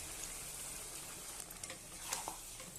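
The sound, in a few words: stirring and frying mutton curry in a pan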